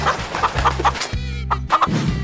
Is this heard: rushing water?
no